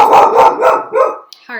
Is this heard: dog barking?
yes